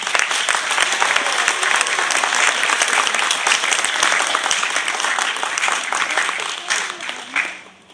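Loud, dense audience applause at a high school spring concert, greeting the flute section with sustained clapping that fades near the end, and a few voices blend into the crowd noise.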